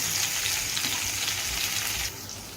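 Green chillies sizzling in hot oil with cumin seeds, a dense continuous frying hiss that holds steady and close, easing slightly near the end, with no talking.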